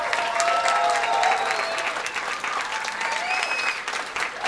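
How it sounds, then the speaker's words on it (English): Loud, sustained applause from an audience at an academic achievement graduation program for community college graduates, with whoops and cheers rising over the dense clapping throughout. "Let's give them another huge round of applause."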